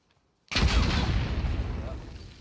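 A single gunshot in The Last of Us Part 2 breaks a brief silence with a loud, sharp crack, then a long booming echo that fades slowly over about two seconds.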